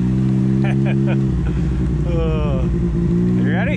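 A Ski-Doo snowmobile engine drones steadily and close while being driven over snow, its pitch shifting as the throttle changes, with brief voices talking over it.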